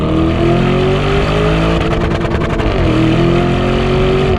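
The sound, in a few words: sports SUV engine bouncing off rev limiter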